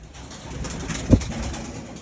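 Morris Gordon velvet pigeons give a single short, low coo near the middle, close and fairly soft above a steady background hum, with no talking.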